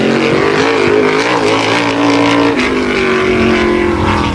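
A tour type modified race car at Wall Stadium roars off on its qualifying lap, engine loud and continuous with rising and shifting pitch as it accelerates away, dominating throughout.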